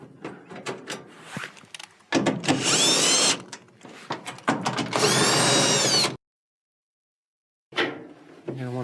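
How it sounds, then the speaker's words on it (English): Screws are backed out of the blower housing on a Whirlpool dryer with a power drill, giving two sustained whirring bursts of about a second each, separated by shorter clicks and handling noises, then a brief silence and a final rattle. "take your blower housing, remove the screws for that"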